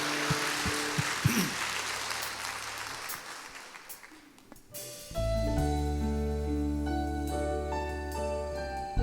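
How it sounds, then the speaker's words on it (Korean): Church congregation at a women's worship service claps warmly for a few seconds to welcome a song, the applause thinning out before sustained instrumental accompaniment swells in and takes over. "사랑으로 큰 박수로 환영해 주십시오."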